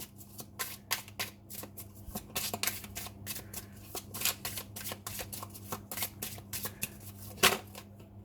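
Tarot cards are shuffled by hand in a quick, close, repeated riffling rhythm, a steady run of soft papery slaps over a low background hum, with no speech.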